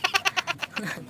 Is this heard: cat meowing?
yes